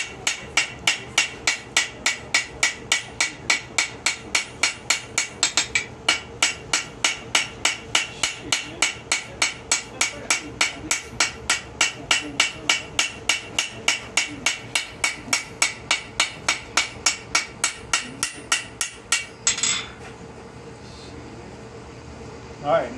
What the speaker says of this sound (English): Now I'm going to get after the rivets a little bit more aggressively and work around the edges of them and start